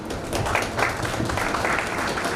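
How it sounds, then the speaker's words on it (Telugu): An audience claps steadily and fairly loud all the way through, with no talk over it, at a retirement gathering. "ఒకసారి చప్పట్లు కొట్టాలి గట్టిగా"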